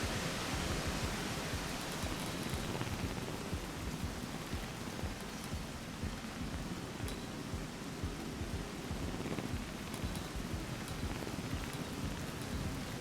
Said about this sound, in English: I do not want to deal with the rain anymore.